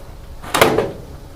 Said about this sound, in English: and then the drawer will slide free.